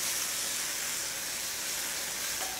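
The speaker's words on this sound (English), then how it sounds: "Your pan might need just a hint of water so that we can cause a little bit of steam." Vegetables steam and sizzle in a stir-fry pan after a splash of water, giving a steady close hiss that holds evenly throughout with no talking.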